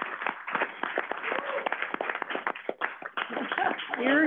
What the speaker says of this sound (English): I think we could give him a round of applause for that kind of leadership.